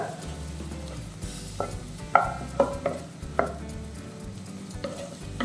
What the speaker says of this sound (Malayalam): എല്ലാം കൂടി ഒന്ന് വഴച്ചെടുക്കാം